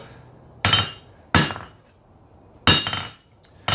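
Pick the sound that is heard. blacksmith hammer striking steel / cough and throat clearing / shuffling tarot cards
blacksmith hammer striking steel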